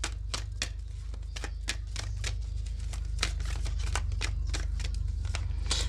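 Tarot cards are shuffled and drawn from a deck in a steady run of crisp, close riffling snaps and slaps, with a low hum underneath and no talking.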